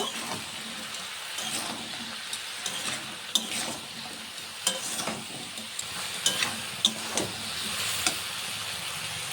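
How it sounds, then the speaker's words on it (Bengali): A pan of shrimp with flat beans and potato being sautéed with salt and turmeric, steady sizzling under repeated scraping strokes of a spatula, with frequent light taps against the pan. "এখন সবকিছুকে কষিয়ে একটু রান্না করে নেব"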